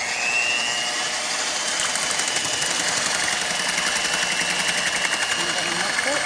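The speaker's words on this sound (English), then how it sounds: "I'm just using a plain old mixer like this, and I'm just going to turn it on." Plain electric hand mixer whirring steadily while blending cocoa shea cream oil, a continuous high motor whine with a buzzing rattle that holds at a constant loud level from start to finish.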